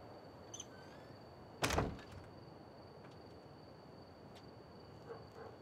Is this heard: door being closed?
yes